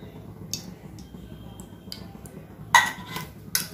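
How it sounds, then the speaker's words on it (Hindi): A pan is placed on the stove and oil is added, ready for cooking bottle gourd veg Manchurian. Sparse, light metallic clinks are followed by a sharper clank and a few more taps near the end. "एबे पैन बसाला आमे एथिरे तेल पके देमा"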